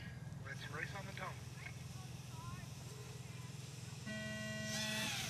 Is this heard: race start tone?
yes